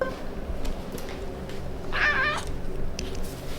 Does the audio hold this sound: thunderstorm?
no